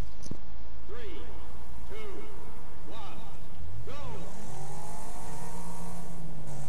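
Car engines racing in the Wreckfest video game, several close revving passes whose pitch climbs and drops in quick repeated shifts, ending in a sustained rising engine drone.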